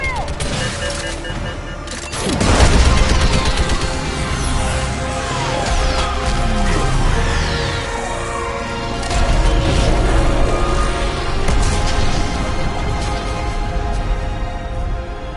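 Heavy explosions and crashing impacts in a Mass Effect 3 battle with a Reaper: a loud blast near the start, then repeated booms and debris, with gunfire and combat noise continuing throughout.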